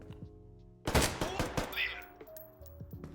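Gunfire in the tactical shooter Door Kickers 2 during close-quarters combat: a sudden burst of rapid shots followed by a few scattered reports and ringing tones, fairly loud with no speech.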